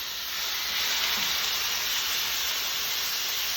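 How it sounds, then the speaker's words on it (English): Vegetables for a Greek salad with marinated chicken sauté on high heat in a hot pan, making a steady, loud, close sizzle and hiss that carries on unbroken. "We're just gonna saute these"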